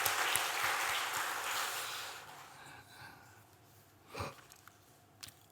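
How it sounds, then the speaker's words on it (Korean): Applause from a church congregation, a broad clatter of clapping that fades out over the first few seconds, followed by quiet with a couple of brief thumps. "우리 하나님께 영광을 올려드리고 있습니다"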